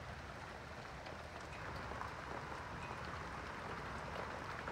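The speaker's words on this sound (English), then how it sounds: "And just rest in that beautiful sound of the rain." Steady rain falling, an even soft hiss with faint patter that holds at low level without a break, no voices over it.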